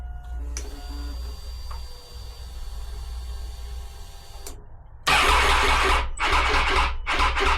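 A Triumph Tiger motorcycle that is reluctant to start cranks with a low rumble and a mechanical whine. After a sharp click, it catches into a loud, rough burst of engine noise with uneven surges.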